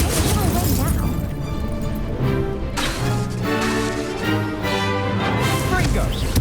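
An Incendio fire spell cast during combat in Hogwarts Legacy gives bursts, whooshes and blasts at full loudness under game music and a voice calling out spells.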